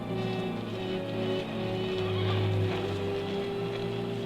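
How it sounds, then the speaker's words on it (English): A horse approaches at night, with a whinny and clip-clopping hooves sounding over a dense, steady background bed of tones in an old Western film scene. "There's a horse coming up."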